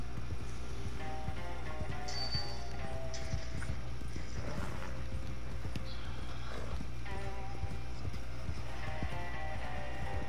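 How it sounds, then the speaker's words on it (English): Horse hooves in Red Dead Redemption 2, a steady clip-clop of a galloping mount with a couple of whinnies, over constant game ambience and a low hum, with no voices. "let me get my horse"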